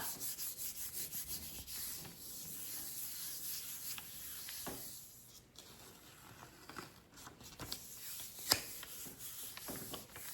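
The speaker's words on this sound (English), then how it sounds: "Just give that a really good rub." Steady hand rubbing over paper pressed onto a Gelli printing plate, a soft continuous dry swishing and scuffing texture, close and quiet with no talk.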